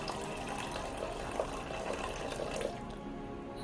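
Water poured into a container to fill it, a soft, steady trickle and splash running for a few seconds, faint and close, with no talking.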